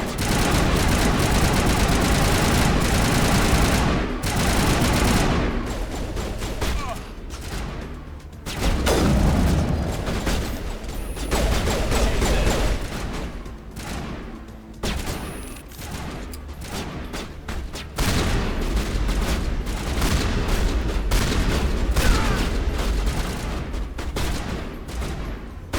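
Rifle gunfire in the video game Mass Effect Legendary Edition, with sustained loud bursts of shots, booms and battle noise that carry on almost unbroken.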